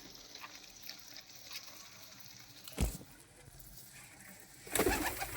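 Giribaz pigeons at a pigeon farm in Bangladesh, faint soft cooing and low bird sounds in the background, with a couple of louder rustling flutter bursts, likely wings.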